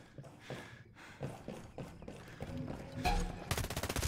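Gunfire during a co-op firefight in the Ghost Recon Breakpoint video game, a mix of scattered shots and impacts that builds into a loud rapid burst of automatic fire near the end.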